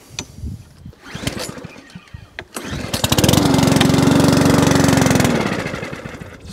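A petrol lawnmower running on E10 fuel is pull-started: a few rattling pulls, then the engine catches and runs loudly for about two seconds before dying away.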